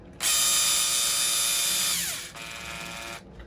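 Close, loud electric drill whirs steadily as it drives a screw into a 3D printed RC car chassis part, winds down in pitch, then runs again briefly at a slightly lower level before stopping.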